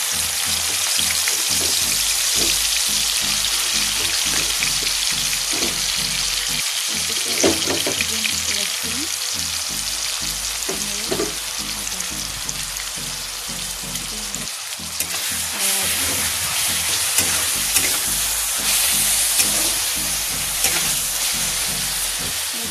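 Onion paste frying in hot oil in a kadai: a loud, continuous close sizzle and crackle with occasional stirring scrapes, running steadily throughout.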